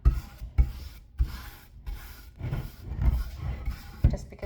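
A brush or cloth scrubs dust and dirt off an Edelbrock air cleaner in steady, evenly spaced rubbing strokes, each with a soft thump, close and fairly quiet with no talking.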